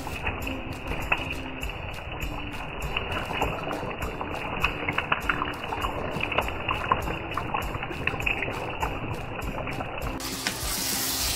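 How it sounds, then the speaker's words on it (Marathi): Marinated mutton hits browned onions in a hot pan for a Bihar-style Champaran mutton curry, giving a steady, close crackling sizzle with dense popping that runs unbroken and fairly loud throughout, with no talking. "आता जे मटण मॅरिनेट केलं होतं ना ते याच्यामध्ये टाकतेय मी."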